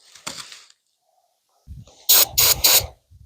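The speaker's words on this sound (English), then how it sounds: "A little carb cleaner." Three loud, close bursts of carb cleaner spray hiss onto speedometer cable ends from a 1949–1950 vehicle, each a sharp aerosol blast, following some soft handling noises.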